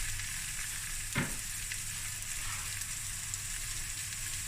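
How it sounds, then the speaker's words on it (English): Pieces of Dania sausage, about 800 grams, frying in a pan for sausage fried rice, a steady close sizzle with one short scrape or clatter early on and no talking. "This is about 800 grams of Dania sausage that I just cut into pieces."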